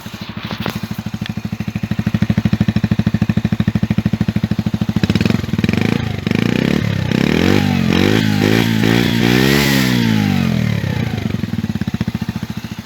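A Mash Fifty 50cc motorcycle engine runs close by, first at a steady idle, then revving up and down in rising and falling sweeps with mechanical clatter, loud throughout.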